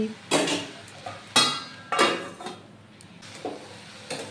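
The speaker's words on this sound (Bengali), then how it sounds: "এভাবে নাড়াচাড়া করে যাতে সমস্ত উপকরণগুলি একসঙ্গে মিক্সড হয়ে যায়" Vegetables being stirred in a steel wok, the spatula scraping and clanking against the metal in several separate close strokes with quiet pauses between them.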